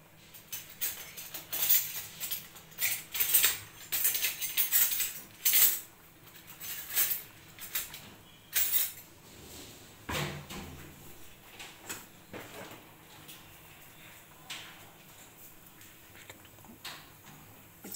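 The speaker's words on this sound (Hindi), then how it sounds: "तेल अच्छा गर्म हो गया है, राई और जीरा तड़कने लगा है" Mustard seeds and cumin crackle in hot oil: dense, irregular sharp pops and sputters up close, busy at first, then thinning to sparser snaps.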